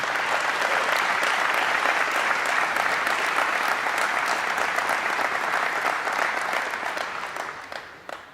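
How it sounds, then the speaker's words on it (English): Sustained applause from a crowd at a state fair opening ceremony, a full, even wash of clapping that holds steady for several seconds before tapering off at the end. "Can we give them all a round of applause?"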